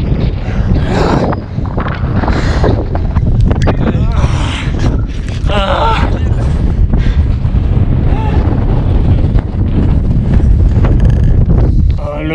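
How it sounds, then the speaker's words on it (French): Strong wind buffets the microphone in loud, continuous rumbling gusts, with a voice talking underneath. "Le vent, tellement de vent, je dois protéger la caméra."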